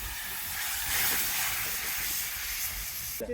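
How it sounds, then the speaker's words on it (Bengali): Water poured into a pan of sizzling, well-fried spice paste while cooking egg, paneer and spinach fritter dishes gives a loud, steady hiss of steam that holds for about three seconds and cuts off near the end, with no voices. "মশলাটা ভালোভাবে কষিয়ে নিয়ে এবার আমরা মশলার মধ্যে এবার জল দিয়ে দেবো"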